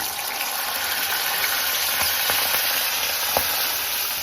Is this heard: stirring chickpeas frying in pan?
yes